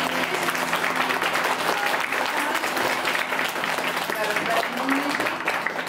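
Parents clap for their children's bow at a kindergarten Christmas show, a full, sustained round of applause from a small crowd held throughout, with voices mingled underneath.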